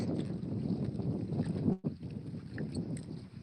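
Steady wind rushing and buffeting a microphone outdoors, with a brief dropout partway through before the gusty roar resumes.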